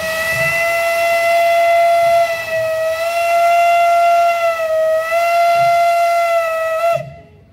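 Steam locomotive 486.007 Zelený Anton, a green tender engine shown at a Bratislava depot event, lets out one long, loud, steady whistle blast that holds for about seven seconds before cutting off abruptly.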